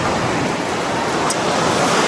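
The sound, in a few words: sea waves at Bauang Beach, La Union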